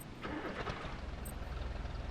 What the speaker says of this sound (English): I hear a truck.